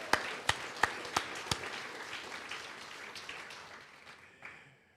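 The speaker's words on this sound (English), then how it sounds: "please join me in giving a round of applause for our talented filmmakers tonight" Applause for filmmakers at the Belize International Film Festival: a few sharp separate claps open, then a crowd's scattered clapping carries on and slowly fades, with a short burst near the end.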